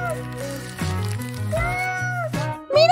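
A voice imitates a cat, sliding through high meow-like calls in short bursts close to the mic, set in a playful scene with cat-ear makeup at home.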